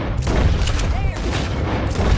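Rapid gunfire in Red Dead Redemption 2 during a story mission, a dense, loud burst of shots that carries on throughout.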